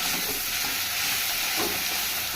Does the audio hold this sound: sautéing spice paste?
yes